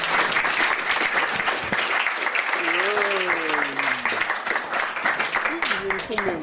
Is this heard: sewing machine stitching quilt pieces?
no